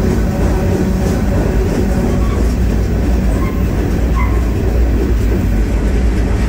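A CSX freight train rolls along the rails with a loud, continuous rumble and rattle of the cars, heard close from on board, steady throughout with faint squeals and clacks over the roar.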